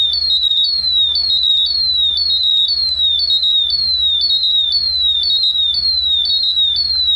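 A gas detector alarm, a MultiRAE or BW Ultra, repeats a shrill, rapid, descending chirp over and over in a steady, loud pattern with nothing else over it.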